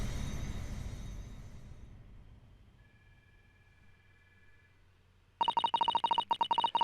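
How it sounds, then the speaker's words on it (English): After a fading rumble and near silence, a telephone starts ringing loudly and close by, sounding in quick, repeated electronic bursts. "excuse the phone ringing again"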